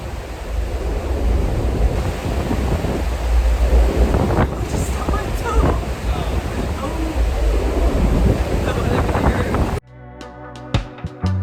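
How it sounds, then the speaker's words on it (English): Ocean surf and gusting wind on a Bahamas shoreline make a steady, loud roar with buffeting microphone wind noise, then the scene cuts abruptly to music near the end. "The ocean looks absolutely gorgeous right now."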